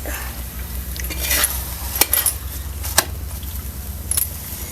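A breakfast snack is flipped and roasted on a pan until crisp on both sides, with sharp metallic clinks of a utensil against the pan over a soft background sizzle.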